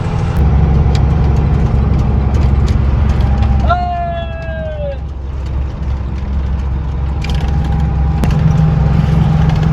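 A car cruising along a scenic road, its steady engine and road rumble continuous throughout, with a brief high whistling tone partway through.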